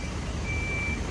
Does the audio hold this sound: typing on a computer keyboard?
no